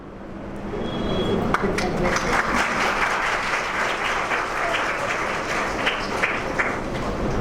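Thick, continuous clapping fills the hall at the valedictory function of a seven-day Urdu festival, many hands applauding steadily for over seven seconds with faint crowd voices beneath.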